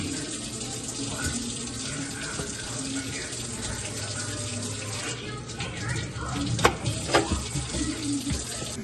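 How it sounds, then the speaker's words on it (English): Cold water runs from a kitchen tap in a steady, close rush while onions are cut, with splashes that grow louder toward the end. "I like to run cold water while I'm cutting onions."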